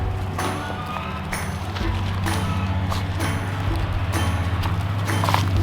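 Many goat hooves clatter and patter quickly across the ground in an irregular, busy rhythm, close by and fairly loud, with steady background noise throughout.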